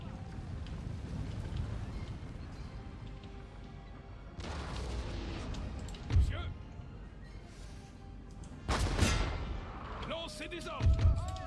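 Napoleonic-era artillery cannon fire in the Total War: Napoleon video game booms out in three spaced, heavy blasts over a steady rumbling background while a person talks.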